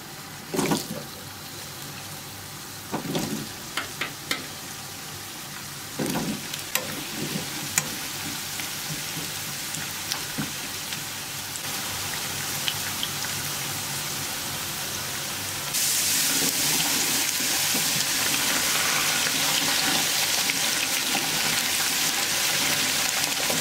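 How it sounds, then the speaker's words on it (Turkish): Potatoes fry in oil on high heat, sizzling steadily, with occasional clinks and stirring noises early on, growing louder and hissier toward the end. "Patatesleri önlü arkalı olacak şekilde yüksek ayarda sadece kızartıyorum."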